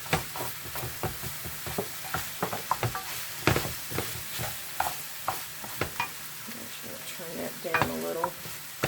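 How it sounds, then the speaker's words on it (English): Garlic sizzles in a hot pan while a utensil stirs it, with a steady frying hiss under repeated close scraping and tapping strokes against the pan. "Okay, so we're going to throw the garlic in. And the garlic will cook really fast."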